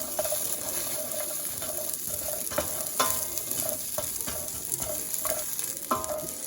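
Potatoes and eggs browning together in a pan for a big breakfast scramble, a soft continuous sizzle punctuated by repeated scraping and tapping strokes of a utensil against the pan.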